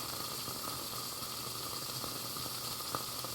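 Water boiling in a pot of pork dumplings, a steady close bubbling hiss with small irregular pops and crackles throughout, no voices.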